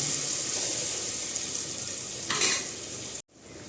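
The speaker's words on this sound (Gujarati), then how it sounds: "કેપ્સિકમનો ઉપયોગ કરી લઈએ છીએ અને સરસ મજાનો હલાવી લઈશું" Capsicum being stirred in a frying pan while making pulao, a steady sizzle with a short burst of scraping partway through, close and alone before a brief gap.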